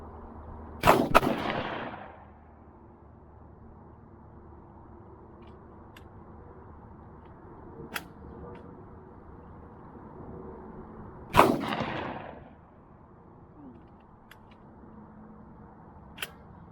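A Landor Arms LND117 AR12 airsoft gun fires a magazine, heard as two short sharp bursts of shots several seconds apart, each with a brief trailing rattle, over quiet room tone with a few faint clicks between.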